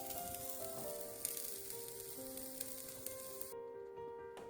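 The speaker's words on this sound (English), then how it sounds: "I'm going to go ahead and finish searing off each of these pieces" Cauliflower pieces sear in a pan on high heat, giving a steady close sizzle and crackle with a few sharp pops, alone with no voices.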